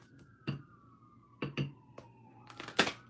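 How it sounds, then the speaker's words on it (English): Emergency sirens wail outside in a steady drawn-out tone, faint and distant, while closer sharp knocks and clatters punctuate the foreground. "There's a lot of sirens."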